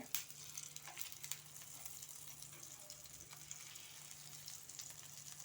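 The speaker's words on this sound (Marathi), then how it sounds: "हे आता एका बाजूला भाजत आलेले आहेत आहेत हे बघा गॅस मी फुलच ठेवला आहे" Potato patties fry in a pan over full gas, giving a faint, continuous crackling sizzle with scattered small pops, quiet and unbroken.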